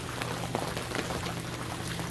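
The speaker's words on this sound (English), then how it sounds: "as this rain continues to come down" Steady rain pattering down over a flooded, waterlogged campground, a dense, even hiss of drops with occasional louder splashes, continuous and close, with no voices.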